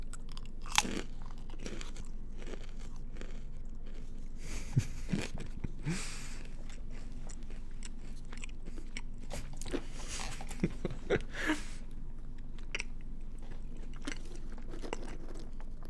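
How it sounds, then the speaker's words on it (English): Someone crunches and chews pretzels in a home kitchen, a steady run of faint, close mouth crunches and bites over a low background hiss. "You can hear him crunching away."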